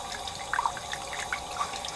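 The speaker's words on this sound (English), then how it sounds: "And you're gonna want to empty the nasty water out." Murky water is emptied out of a slimy fishing bait recovered from a river, giving light splashing and dripping with a few brief spatters, fairly close and with no talk.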